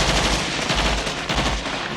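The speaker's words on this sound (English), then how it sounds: "and automatic weapons fire," Automatic weapons fire rattles in rapid, dense bursts for two seconds, loud and close with a steady stream of overlapping shots and no talking.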